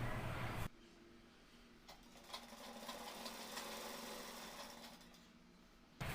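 Sewing machine stitching a kurta placket with small stitches, a steady close mechanical whirr running for several seconds without talk, beginning and ending abruptly.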